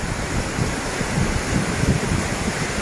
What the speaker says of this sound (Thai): โอ้ฝนฟาดมายันตรงนี้เลยนะครับ ลมพัดแรงนะครับ